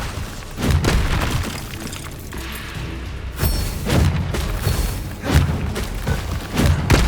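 Bombarda spell blasts from Hogwarts Legacy, a series of loud booming explosions with thuds and crackling debris, several impacts spaced roughly a second apart over continuous game noise.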